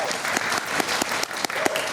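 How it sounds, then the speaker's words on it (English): Dense rally crowd clapping in a continuous burst of sharp, overlapping handclaps, loud and sustained across the whole moment with no talk. "Hey, clap!"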